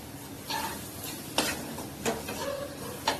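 Semolina with mango is stirred in a pan, with a few distinct scraping strokes of a spoon against the pan over a soft, continuous low sizzle.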